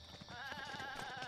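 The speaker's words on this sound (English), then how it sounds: "Are we about to beat this billy goat up?" A billy goat in The Legend of Zelda: Breath of the Wild lets out a drawn-out, wavering bleat that carries steadily over quiet game ambience, with no voices present.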